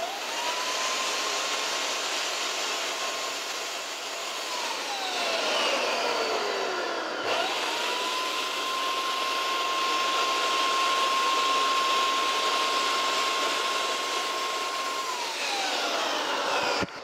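A Wagner XVLP 3500 FinishControl paint sprayer turbine whines steadily and loudly, its pitch dipping and rising as the trigger is pulled fully while spraying, with no talk over it.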